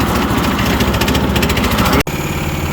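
A new 212 Predator engine fitted to an old Formula 1 racing go-kart runs loud and close with a steady, rapid pulsing drone, broken by a brief cut partway through before it continues.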